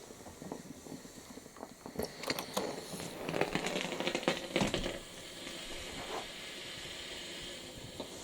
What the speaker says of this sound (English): That constant steam though is amazing off this.